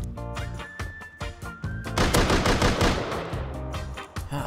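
Gunfire in the video game Rust, a rapid close burst of automatic shots after a few scattered single cracks.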